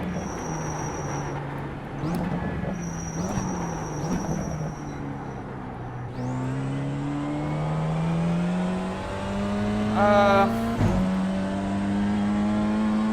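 BMW M2 race car in the iRacing simulator, its engine droning steadily and then climbing through rising revs with gear changes, loud and continuous, with no talking.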